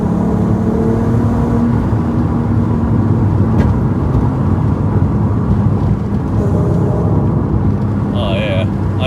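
A modified VW Golf R32 with a VR6 engine on the road, its deep growl a loud, steady low rumble and drone heard from inside the cabin for the whole stretch.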